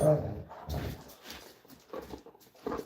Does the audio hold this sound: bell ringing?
no